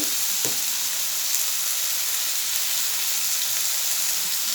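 Ground turmeric and chopped green chilies sizzling in hot frying oil, a steady close crackle and hiss that fills the whole stretch without any talk.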